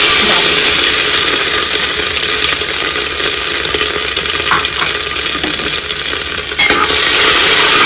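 Whole spices with garlic-ginger paste fry in hot oil in a pot, giving a loud, continuous close sizzle and crackle, with brief stirring scrapes and no talking.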